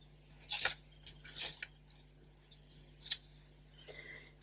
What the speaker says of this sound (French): petite paire de ciseaux